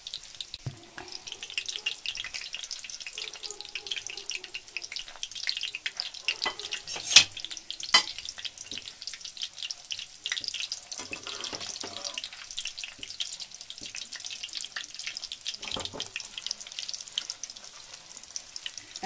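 Gulab jamun frying in hot oil in a pan as they are stirred, giving a continuous soft hiss and bubbling with occasional light clinks, close but fairly quiet.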